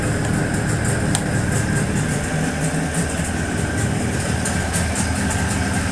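A Jawa 638 motorcycle engine with freshly adjusted valves runs at a steady idle, a continuous even drone with no one talking over it.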